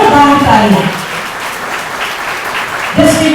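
Crowd applause at the chief minister's Med-Tech Innovation Day event launching the District Sandbox initiative by remote button: a short round of clapping, with a voice speaking over it at the start and again at the end.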